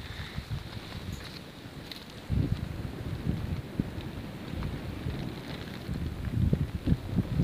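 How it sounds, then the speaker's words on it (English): Wind gusting at an outdoor campfire while wild camping, a faint, rough rumble of buffeting that strengthens partway through and keeps fluttering in uneven gusts. "The wind's blowing quite a bit at the moment as well"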